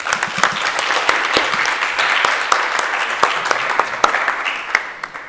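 A modest audience at a talk on South Africa's democracy claps for a speaker, a sparse, close round of individual hand claps with distinct sharp hits that thin out toward the end.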